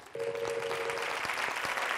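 Michael claps his hands through a game-show quiz round, a run of sharp claps with evenly spaced hand strikes over a steady room background, with no voices among them.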